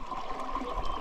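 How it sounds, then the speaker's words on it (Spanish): Apple Watch Ultra expelling water after submersion, a steady buzzing tone with watery gurgle and sputter, faint and continuous for about a second with no talking. "Ese es el sonido en donde trata de expulsar la mayor cantidad de agua posible dentro del Apple Watch"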